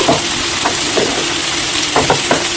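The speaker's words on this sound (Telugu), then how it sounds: "ఈ టైంలో పెట్టుకుని బాగా వేయించుకోండి." Spinach curry sizzles steadily in a pan, frying loudly with short scraping strokes of stirring breaking through the continuous hiss.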